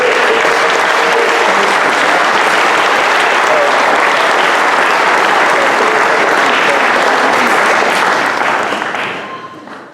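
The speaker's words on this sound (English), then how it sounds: "So how about a nice round of applause for Marshall Otwell?" An audience at a jazz piano showcase breaks into dense, sustained applause, loud and steady clapping with crowd murmur that fades out near the end.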